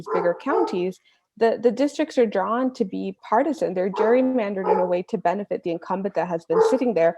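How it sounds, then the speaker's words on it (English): A pet dog barks and yips intermittently in the background, faint and mostly buried beneath continuous close-up talk from someone speaking throughout. "that's my dog barking in the background"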